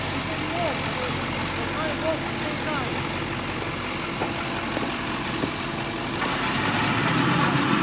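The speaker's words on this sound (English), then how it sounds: "So they're gonna go ahead and start winching the blue diesel and pull the Land Cruiser up at the same time" A blue diesel truck's engine running steadily at a low rumble while winching a Land Cruiser up a sand bowl, a constant drone with faint wind and distant voices underneath.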